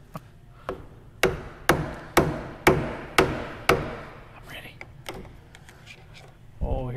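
A flat blade screwdriver used as a chisel is struck by a hammer about eight times in a steady rhythm, each blow a sharp metallic crack that rings briefly, near and loud, while removing parts from an IH Dresser 175C track loader.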